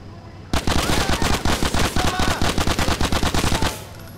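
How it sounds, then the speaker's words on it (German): Rapid blind-fire gunshots from the game GTA IV: The Ballad of Gay Tony, a loud burst of closely spaced shots running for about three seconds after a quiet start, then stopping abruptly. "Ist voll gut mit blind hier so Kacke zu schießen"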